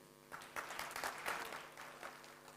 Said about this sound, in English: Can you please clap your hands if you'd say that you're a perfectionist?